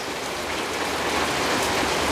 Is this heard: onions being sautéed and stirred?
no